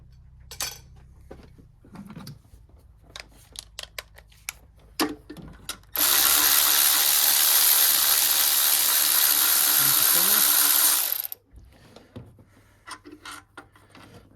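A ratchet clicks in short bursts as it works a 13mm bolt loose on a Ford Fiesta EcoBoost engine, then a steady buzzing tool runs loud for about five seconds before the quiet clicking resumes.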